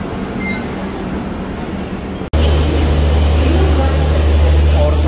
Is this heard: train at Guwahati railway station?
yes